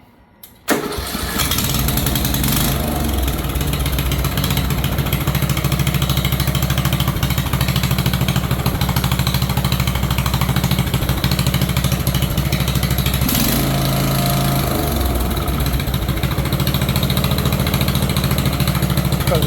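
A John Deere lawn tractor engine starts with a brief cough and then runs steadily at a loud, constant pitch for the whole stretch, with a faint momentary change partway through and no talk.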